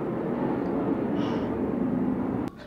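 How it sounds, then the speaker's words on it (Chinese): A fixed-wing airplane flies overhead in San Diego ahead of an air show, a steady, moderately loud engine drone that fills the background without breaking, ending with a faint click. "天上的飞机一直在飞。"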